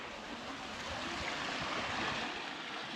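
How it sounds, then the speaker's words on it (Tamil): Water spills down an artificial waterfall inside a cave-like attraction in South Goa, a steady full-bodied rush of splashing flow heard nearby with no voices. "அழகாக தண்ணி போயிட்டுருக்கு."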